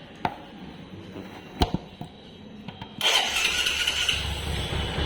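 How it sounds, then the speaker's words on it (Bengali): A motorcycle engine catches and starts with the clutch lever held in, a few sharp clicks and knocks leading into a loud, steady idle that continues to the end. "ক্লাস না ধরলে এই বাইকটা চালু হয় না।"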